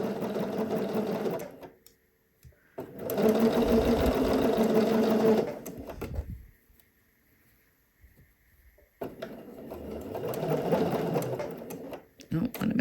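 A sewing machine stitches bias tape along a dress neckline in three separate bursts of close, rattling whir, with quiet gaps between them and a voice talking over parts of it.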